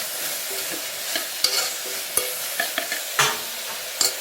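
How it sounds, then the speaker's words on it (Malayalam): Potatoes being stirred in a frying pan: a constant sizzle broken by repeated sharp scrapes and taps of a spatula, close and fairly loud, with no talking. "ഉരുളക്കിഴങ്ങ്, എല്ലാം കൂടെ നന്നായിട്ടൊന്ന് മിക്സ് ചെയ്ത് കൊടുക്കാം."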